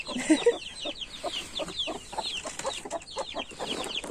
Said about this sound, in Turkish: Maşallah bir sürü tavuğumuz oldu.